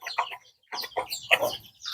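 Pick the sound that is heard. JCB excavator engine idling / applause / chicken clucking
chicken clucking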